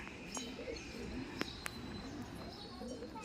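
Punjabi pigeons, a large heavily feathered breed, coo softly and steadily in low repeated murmurs at moderate distance, with a couple of sharp clicks and faint chirps over a background hum.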